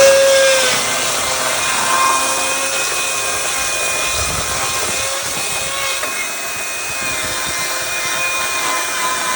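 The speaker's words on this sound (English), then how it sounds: "I got a chainsaw in my hand." A chainsaw cuts through the wood of an old shed during demolition, a loud continuous buzzing roar with steady grinding texture that holds for the whole stretch without talk.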